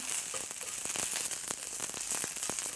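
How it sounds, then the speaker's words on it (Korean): Beef stir-frying in a pan for Chinese-style fried noodles, giving a steady soft sizzle with scattered small crackles and pops throughout. "살짝 노릇한 색이 예쁘게 맛깔스럽게 나도록 볶아주세요"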